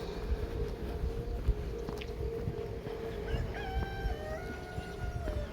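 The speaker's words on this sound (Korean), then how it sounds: "울려 퍼지는 닭의 울음소리." A rooster crows outdoors on a walk under a clear autumn sky, a drawn-out call at moderate distance over steady wind and a low background rumble.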